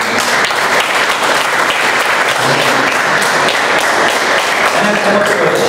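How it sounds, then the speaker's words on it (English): A dense, loud round of applause from members at a Toastmasters club meeting, continuous clapping that fills the room and holds steady throughout. "A big round of applause there."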